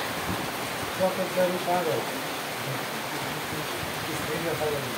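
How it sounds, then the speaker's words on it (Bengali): Heavy rain falls in a steady, dense hiss that stays even throughout, with a person speaking faintly beneath it. "খুব সেই সেই বৃষ্টি হচ্ছে"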